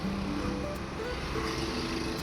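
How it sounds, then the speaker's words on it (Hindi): Heavy road traffic on a busy street during a hot, windy evening, a dense continuous rumble of engines and passing vehicles with no clear gaps. "ट्रैफिक बहुत ज्यादा हो रहा है"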